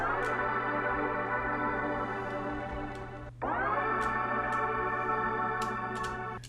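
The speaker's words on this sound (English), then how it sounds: "we added a pretty cool effect by adding this pitch automation and pitching it one octave up" Soulful hip-hop beat sample with pitch automation pitching it one octave up: sustained, bright chordal tones that dip briefly, then swell back in at a raised pitch over a steady low hum.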